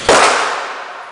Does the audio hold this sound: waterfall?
no